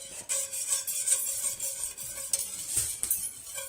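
A utensil scrapes and stirs sour cream for homemade yogurt, making close, rhythmic scraping and rubbing strokes against a container with occasional clinks and no talking.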